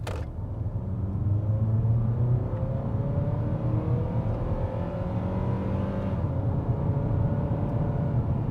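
A four-cylinder Ford Fusion accelerates at three-quarter throttle during a used-car test drive, its engine note rising steadily in pitch as it builds speed. The drone stays loud and continuous throughout, with no talking.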